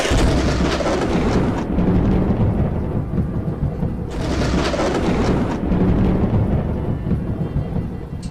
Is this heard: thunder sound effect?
yes